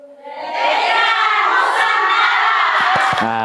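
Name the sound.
audience applauding and cheering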